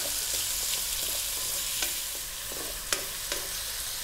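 Onions sauté in a pan for a Filipino crab dish, a steady close sizzle broken by scattered scrapes and taps of a spoon stirring them.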